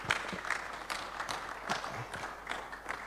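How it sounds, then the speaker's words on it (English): Seminar audience claps to welcome a doctor to the stage, a soft, fairly distant round of applause with scattered individual claps standing out over the crowd. "with a round of applause, please let's welcome Dr."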